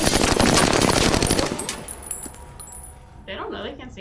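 Rapid burst of gunfire from the 2008 Iron Man movie, loud and dense for the first second and a half, then fading into scattered clatter, with a voice talking near the end.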